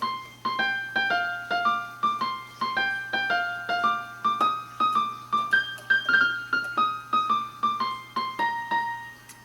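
A bright piano melody played briskly with steady, evenly struck notes and sustained harmonies, no voices.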